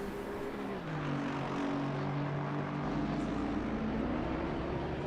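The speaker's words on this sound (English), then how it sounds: "As a plane takes off." A plane taking off near Donington Park in Assetto Corsa Competizione gives a sustained engine roar whose droning pitch slides downward and then settles, a constant loud wash with no talking over it.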